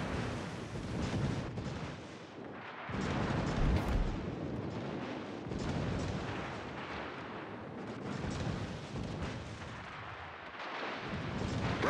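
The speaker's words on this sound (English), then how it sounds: "Concentrate fire on the enemy warship." Naval guns fire at an enemy warship in a video game, a continuous barrage of heavy booms and rolling blasts that overlap with no pauses, loud and close throughout.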